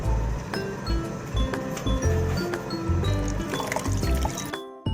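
Water poured into a container while soaking jowar (sorghum) for papad and kurdai, a steady liquid gush with light clinks of a vessel, close and fairly loud throughout.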